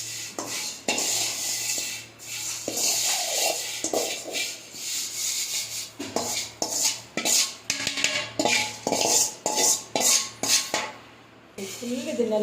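Flattened rice, thin paper avalakki, is stirred with oil in a bowl, giving repeated scraping and rubbing strokes against the bowl in an uneven rhythm, close and fairly loud.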